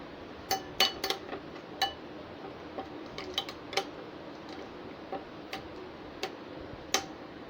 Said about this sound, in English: now we will give it a good mix